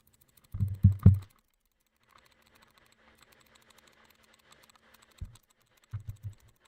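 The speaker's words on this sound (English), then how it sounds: "Do you hear my mouse?" A computer mouse clicks during play of The Stanley Parable: Ultimate Deluxe, a few close, sharp clicks in quick bursts at the start and again near the end, separated by a quiet stretch with faint background hum.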